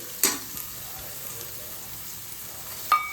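Grated fresh coconut is stirred into melting jaggery in a pan, giving a soft, low sizzle with two sharp scraping stirs, one at the start and one near the end.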